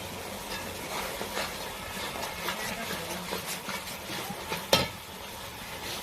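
Spices with Kashmiri chilli powder sizzle as they are sautéed in a pan, with a continuous frying hiss broken by scraping stirring strokes and one sharper clack near the end.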